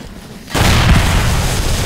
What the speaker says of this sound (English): Why am I hearing explosions?